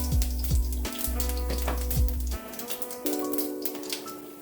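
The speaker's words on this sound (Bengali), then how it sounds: "তেলটা গরম হয়ে গেছে, আমি এর মধ্যে একটু জিরে ফোড়ন দেব যাতে ভাজাতে একটা সুন্দর গন্ধ আসে।" Cumin seeds sizzling in hot oil as a tempering for stuffed ash gourd fritters, a close, steady crackling fry under a low hum, without speech.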